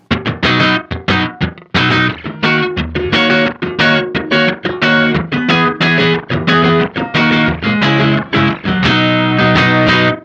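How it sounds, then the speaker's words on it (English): Distorted electric guitar chords played in a rhythmic pattern through a Bleak District Electric Tapescape tape delay at its fastest setting, each strum trailed by a very short, tight echo that sounds like a small room. "Kind of sounds like a room echo more than a delay."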